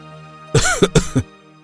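A single close, loud cough burst in two or three rough hacks, with a low steady hum before and after.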